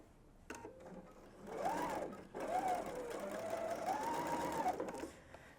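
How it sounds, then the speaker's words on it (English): A sewing machine runs in steady bursts, its motor humming and rising in pitch as it stitches, with a brief pause between runs. "now I'm going to go on the sewing machine and sew at 3/8."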